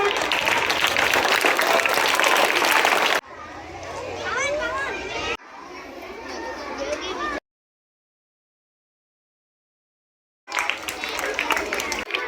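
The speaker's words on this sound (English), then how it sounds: "So all of you give a big round of applause to them." Audience applause at a school abacus prize ceremony at a high school, loud dense clapping mixed with children's voices and chatter, broken by abrupt cuts and a stretch of silence before the noisy crowd returns.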